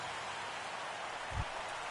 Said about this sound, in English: Rain falling here in the tri-state area as we close in on game time at Yankee Stadium